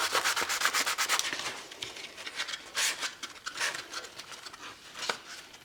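Close, steady scuffing of 1000-grit sandpaper across a cracked subwoofer's surface, quick back-and-forth strokes in irregular bursts with brief pauses between them.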